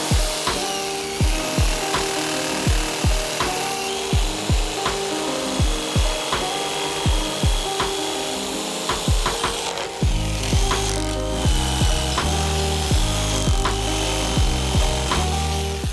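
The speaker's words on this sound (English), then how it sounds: "clean this up with a jigsaw" A jigsaw cuts through wood for a skateboard rack, giving a loud rhythmic rasping buzz of repeated strokes that shifts into a steadier, heavier cutting drone partway through. It stays close, with no talking.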